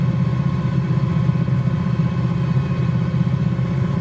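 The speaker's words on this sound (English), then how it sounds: "Once we ease off the collective and level out, the helicopter will stabilise and fly quite happily with one engine" Cowansim 222B helicopter in a flight simulator cruising on a single engine, a steady loud mechanical drone with dense low rumble and a clattering engine texture, continuous and alone.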